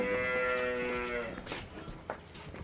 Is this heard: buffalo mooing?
yes